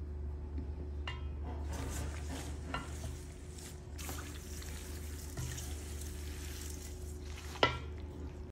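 Thick cherries being stirred with sugar for uncooked cherry jam: a steady wet, squelching churn close by with soft scrapes and a sharp clink near the end, no talking.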